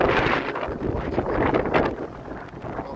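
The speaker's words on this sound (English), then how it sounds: "We're getting a bunch of wind coming off of Lake Michigan here" Steady wind off Lake Michigan gusts loudly across the microphone on a Chicago street, a continuous rough rumble that swells and dips without pause.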